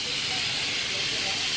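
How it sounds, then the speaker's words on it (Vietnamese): A cooking pot boiling banh tet vents steam in a steady, loud, close hiss that lasts throughout, with no clear talk over it. "nó xì xì đó. Đó, xì đó quý vị ơi. Đây cái nồi này"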